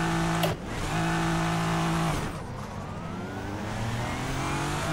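A Le Mans race car engine in the racing game Assetto Corsa drones at high pitch, cuts briefly, then climbs through rising revs with harmonic whine, loud and close, no voices.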